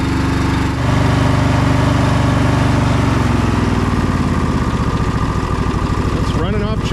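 A tractor engine idles on choke just after its solenoid was replaced, with a close, steady, loud chugging hum that wavers slightly near the end.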